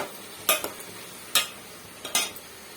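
Food is stirred and mixed in a pot, giving a few separate scraping, clinking strokes of a utensil against the metal over a quiet background, with no talking.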